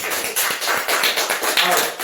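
Audience applause at a book concert honoring Oh Jeong-geun, a steady burst of many hands clapping throughout, close and fairly loud, with no voices on top.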